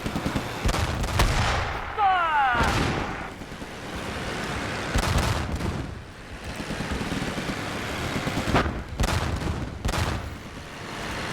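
Tank cannon fire and gunfire in the Korean War video game Theater of War 3: several loud booming shots and bursts repeat across the battle scene amid continuous rumbling combat noise.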